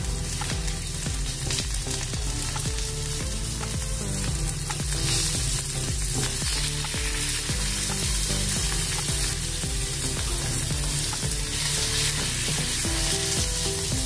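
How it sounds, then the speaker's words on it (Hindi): Tomatoes frying in a pan, a dense continuous sizzle with steady crackling and stirring scrapes, close and alone throughout. "अभी इसमें हम टमाटर डालेंगे।"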